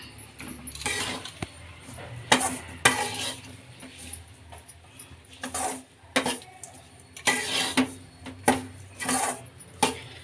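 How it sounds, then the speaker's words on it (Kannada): A spoon scrapes and clinks against a pan while millet upma is mixed with chopped coriander leaves, in irregular bursts of stirring that are fairly close but soft. "ಈಗ ಕೊತ್ತಂಬರಿ ಸೊಪ್ಪು ಹಾಕ್ಕೊಳ್ಳೋಣ ಮಿಕ್ಸ್ ಮಾಡ್ಕೊಳ್ಳೋಣ"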